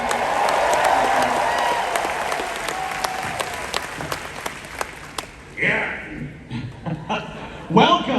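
A large audience at a Star Wars Celebration panel applauds and cheers loudly. The dense clapping tapers off over several seconds into scattered claps, then a voice speaks over the room.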